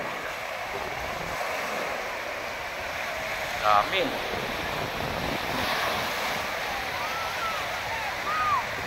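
Surf washing onto a beach at Urbiztondo, San Juan, La Union, a steady broadband roar of waves with wind noise across the whole stretch, under a voice and some distant crowd and bird sounds.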